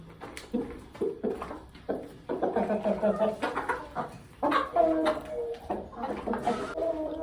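Chickens cluck and chatter busily up close, a whole flock murmuring continuously as they feed.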